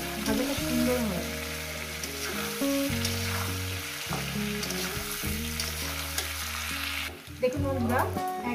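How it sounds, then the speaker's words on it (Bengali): Potato and papaya sizzle as they fry in oil and a spatula stirs them, with a continuous crackle and a few scraping clinks, close and alone. "একদম 7-8 মিনিট ধরে আমি এটাকে কষিয়ে নিয়ে ভেজে নিয়েছি"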